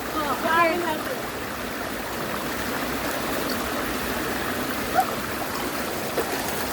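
River water in Hong Kong flows in a steady, close rushing wash, with a voice briefly audible at the start and small splashes or clicks later.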